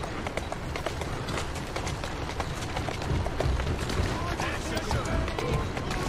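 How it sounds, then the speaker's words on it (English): Horse galloping in Assassin's Creed Syndicate, with rapid rhythmic hoofbeats running steadily throughout and growing slightly louder toward the end, alongside other game sounds. "Who's a good horse?"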